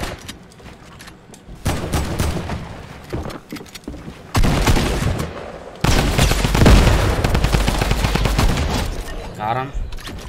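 Rapid bursts of video game gunfire crackle through most of the stretch, loud and dense with booming shots, while a player talks intermittently over the action.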